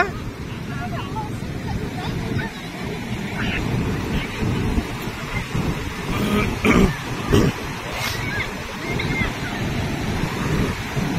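Sea waves wash onto the shore in a constant roar, with wind buffeting the microphone and people talking over the surf.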